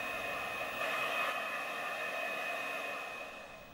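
A hairdryer blowing hot air over wax on a landscape artwork gives a steady, fairly quiet whooshing hum with a faint whine that holds even. It eases off slightly at the end.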